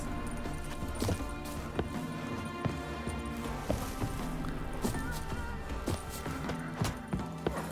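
Horse hooves clip-clopping at a steady, quick rhythm in The Witcher 3 video game, a regular run of distinct thuds under a dense layer of game music and ambience, with no talk.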